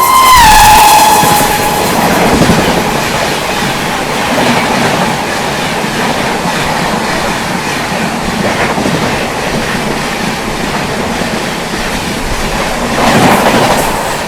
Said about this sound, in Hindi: सामने से आती हुई 22450 पूर्वोत्तर संपर्क।